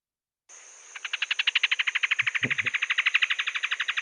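Song of a female rock wren, a Neotropical species: a fast, steady trill of repeated bright notes over a thin high tone, clear and alone after a brief quiet start, with a soft low thump midway.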